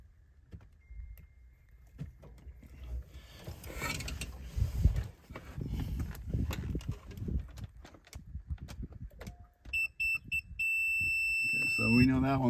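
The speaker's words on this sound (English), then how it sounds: "when there's continuity and obviously it works, you're going to hear a beep like that" A multimeter beeps steadily on a continuity test of truck wiring. The sustained electronic tone comes near the end, starting with a few short beeps, after rustling and handling noise.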